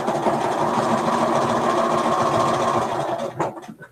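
A sewing machine stitching an eighth-of-an-inch seam on a quilt block, a steady, fast, even mechanical whirr running close and loud, then slowing and stopping near the end.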